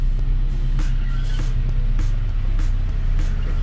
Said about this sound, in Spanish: Y procedemos a encender el vehículo, amigos. Ok, vamos a dejar entonces el carro trabajando por aproximadamente unos 20 minutos.